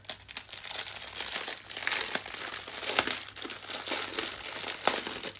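Individual plastic bags holding square diamond painting drills crinkle and rustle continuously up close, a dense crackling texture with a few sharper crunches and no talking.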